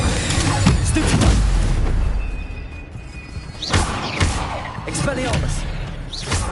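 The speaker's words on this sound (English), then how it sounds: "Stupefy!" Stupefy spell effects in Hogwarts Legacy land as loud, dull booms and thuds in quick succession over a busy, crackling bed of game combat noise.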